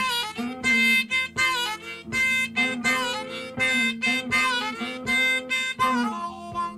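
Blues played on guitar with rhythmic strummed chords and bent notes, lively and close, no voices.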